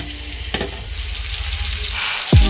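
Spices hiss and sizzle steadily as they fry in a pan, close and continuous, with a stirring scrape and a sudden louder surge of crackling at the end.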